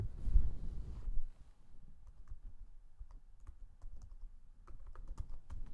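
Someone types a search on a computer keyboard: after a short low rumble, soft, faint key taps come in an uneven run, sparse at first and then quicker.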